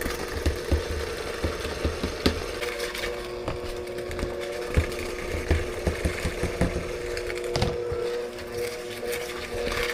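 An electric mixer whirs steadily at close range while beating cookie dough for brown butter snickerdoodles, with irregular knocks and clatter from the beaters against the bowl.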